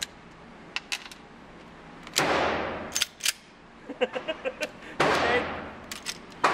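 Shots from a .45 double action combat pistol at a shooting range, two loud reports with long decaying reverberant tails, surrounded by small metallic clicks and handling noise; a voice briefly speaks.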